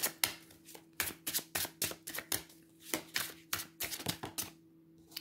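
Tarot cards from a Marseille Waite deck and an oracle deck are shuffled and handled, giving a quiet run of rapid soft flicks and taps in irregular bursts, close by, with no talking.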